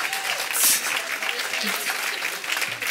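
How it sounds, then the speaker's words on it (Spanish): Church congregation giving loud, sustained applause during a bilingual service, steady clapping with a sharp whistle or cheer early on and voices mingling underneath. "Dele un fuerte aplauso al Señor, por ese traductor."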